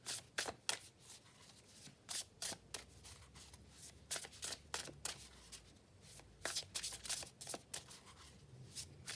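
Sacred Forest Oracle cards handled and set down on a table during a reading, a series of crisp close card flicks and slaps in irregular clusters, with no voice.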